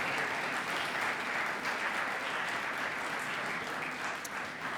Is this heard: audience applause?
yes